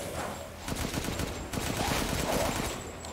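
Rapid bursts of automatic gunfire crackle in Resident Evil Village, with tight, rattling shots fired in quick strings, a brief pause, then another longer run, fairly close over a dull background with no voices.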